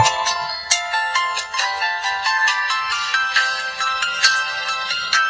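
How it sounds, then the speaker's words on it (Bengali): A double-display mobile phone plays its ringtone, a bright, repeating electronic melody with regular pulsing notes, loud and close, with nothing else heard. "চলুন দেখা যাক রিংটোনের সাউন্ড কেমন ছিল।"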